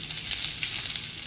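Cumin seeds sizzle in hot oil in a home kitchen, a steady, crackling fry that holds at an even level throughout the short moment with no talk over it.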